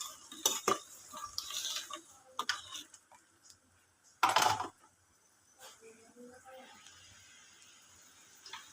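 Chicken sotanghon is stirred in a pan, with scattered scraping and clinking of a utensil against the metal, a sharp loud clatter in the middle, and soft sizzling and quiet background noise between the strokes.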